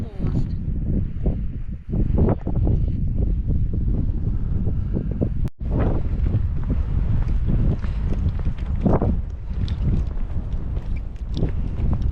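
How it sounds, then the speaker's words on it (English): Strong wind buffets the microphone on the Cateran Trail between Kirkmichael and the Spittal of Glenshee, a constant loud low rumble with gusts, while a person talks over it. "As you can see, it's a wee bit windy today, so apologies if you don't hear me very well, but Beauty, as normal, is taking the lead"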